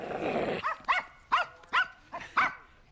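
A dog barks five times in a steady, evenly spaced series, loud and close, following a brief stretch of hissy background noise in a scene where an old woman keeps a dog.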